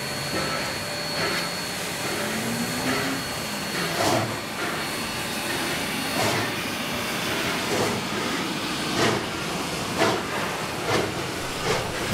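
Steady broadband hissing of a steam locomotive in New South Wales preparing a shuttle train, with recurring bursts of louder hiss and a low rumble throughout, no voices.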